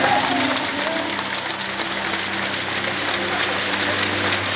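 Sustained applause fills an arena at a volleyball bronze medal ceremony, loud, dense crowd clapping throughout with a public-address voice and background music underneath.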